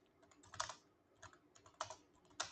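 Quiet keystrokes on a computer keyboard as text is typed, with soft clicks falling in small uneven clusters with short pauses between them and no one speaking.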